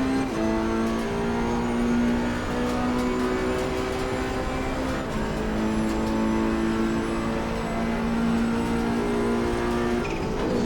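Ferrari Challenge Evo race car at Monza in the ACC racing game, its engine droning steadily at high revs with shifting pitch for the whole stretch, loud and close, with no talk over it.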